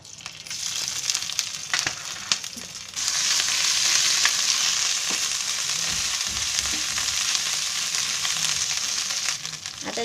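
Ginger garlic paste sizzles and fries steadily in a hot pan for a mushroom masala, first softly and then louder and more crackly after a few seconds, with occasional stirring scrapes and no talking.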